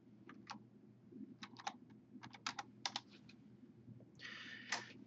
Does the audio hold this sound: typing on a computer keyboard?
yes